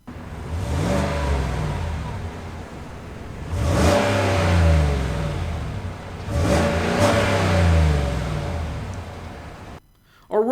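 A 2016 Chevrolet Tahoe's naturally aspirated V8 is revved up close while parked, three separate throttle blips that each rise to a roar and fall back to idle, with a brief drop near the end.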